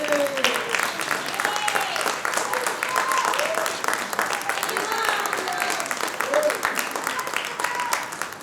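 Audience applause at a Pinkathon women's running event for a 100-kilometer runner, a continuous crackle of many hands clapping while voices call out and talk over it.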